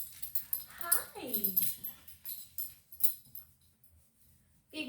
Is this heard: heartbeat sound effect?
no